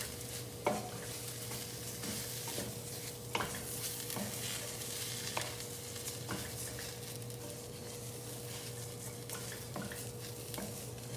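Oats with blueberries, cinnamon and apples are stirred in a pan over a soft frying hiss and low hum, with scattered spoon clinks against the pot, quiet and close.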